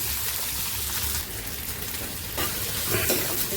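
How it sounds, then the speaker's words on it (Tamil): Onions sautéing in oil in a pan, a loud continuous sizzle with bursts of spattering and brief stirring scrapes, close up and without speech. "போட்டு வதக்கிக்கலாம்"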